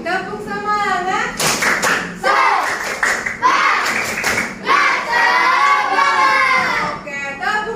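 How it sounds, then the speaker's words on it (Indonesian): A classroom of children repeats a rhythmic cheer clap, bursts of crisp hand claps and desk thumps alternating with loud chanted young voices, near and lively throughout. "Sekali lagi tepuk semangat."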